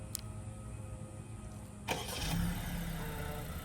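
A 2025 Acura A-Spec engine cranks and catches after a remote key fob start, settling into a steady idle, heard from close by with no talking.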